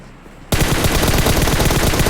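Loud, rapid automatic gunfire bursts out suddenly in a shooting video game, a dense continuous rattle of shots after a brief quiet start.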